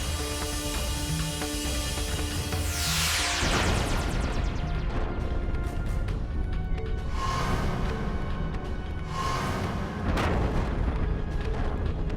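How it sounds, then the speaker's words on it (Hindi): A deep, rumbling blast bursts out and sweeps down in pitch, followed by further heavy booms rolling over dense, dramatic background noise. "ये विस्फोट कैसा?"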